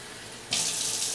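Tap water begins running and pours steadily into a cup while measuring out water for an Instant Pot oatmeal recipe, a sudden bright splashing rush that starts about halfway through and continues, near and fairly loud, with no talk.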